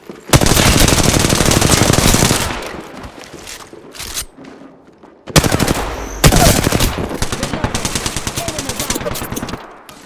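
Loud rapid automatic gunfire in Apex Legends rattles in long sustained bursts, pausing briefly around the middle before resuming close and heavy, then fading toward the end.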